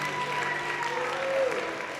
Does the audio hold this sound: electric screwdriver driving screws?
no